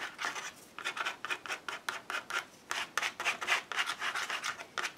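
A gift card scrapes and smears varnish across a book page in quick, rhythmic rubbing strokes, close and crisp, repeating steadily with no talk.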